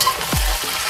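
Chunks of pork dropped into a hot pan for adobong puti, bursting into a strong, steady sizzle that swells as the meat hits the fat and carries on loud and close.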